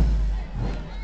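School parade crowd in a loud, continuous roar of applause and cheering, with shouting voices blended into a dense wash throughout.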